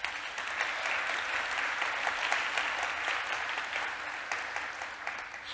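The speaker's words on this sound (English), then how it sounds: "Round of applause for Shane, please." Sustained audience applause at a festival welcome address, a dense, even wash of many hands clapping that holds steady throughout.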